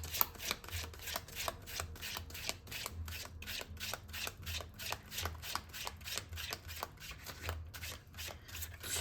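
Tarot cards shuffled steadily by hand, a rapid, even riffle of crisp card flicks repeating throughout, close and fairly quiet with no talking.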